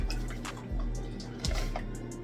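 A marinade of sweet chili sauce, rice wine vinegar and sesame oil being stirred together for huli-huli style chicken, with soft, quiet liquid sloshing and light clinks over a low steady hum.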